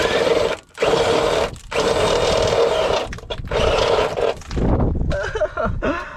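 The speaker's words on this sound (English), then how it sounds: "I have to drill a big hole into my car." Loud power drill whining steadily as it bores a large hole through the metal body of a Honda Civic for a fuel cell install, with a few short pauses and the motor winding down near the end.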